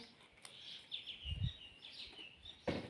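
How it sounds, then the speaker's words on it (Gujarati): Sparrows chirp in quick bursts, faint and a little distant, with a brief low thump partway through. "ચકલાઓ પણ સરસ મજાના ચણી રહ્યા છે"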